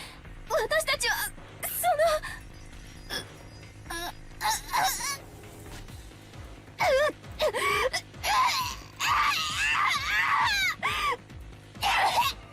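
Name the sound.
agonizing screams of characters in the video game Umineko When They Cry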